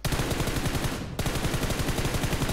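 Rapid automatic gunfire in PUBG Mobile, loud and close, a quick rhythmic burst that briefly thins near the middle and then resumes, with no talking.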